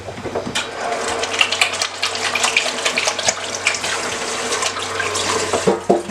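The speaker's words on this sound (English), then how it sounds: "I'm gonna wash my hands." Tap water running into a kitchen sink during hand washing while cooking rouladen, a steady splashing flow with faint clinks and small knocks over a low hum, no talking.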